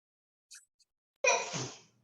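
A small intake of breath, then one sharp, loud sneeze up close, trailing off quickly into quiet.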